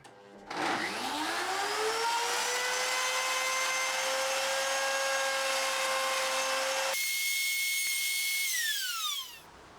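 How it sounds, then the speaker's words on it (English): A router on a router table elongates two drilled holes into slots in a guitar neck backing plate, a loud steady high-pitched whine that spins up, holds for several seconds, then changes pitch and winds down. "elongate the 2 holes that we drilled in the backing plate using the router table"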